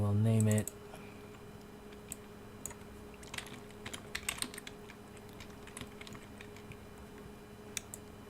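Rapid typing on a computer keyboard, soft scattered clicks and bursts of keystrokes at close range after a brief opening tone.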